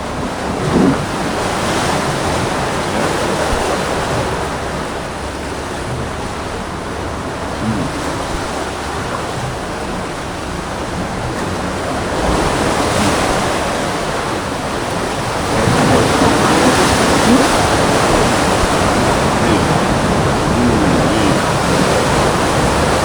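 Large ocean waves break and roll onto the shore in a continuous loud roar of surf with wind noise, swelling louder in the latter part.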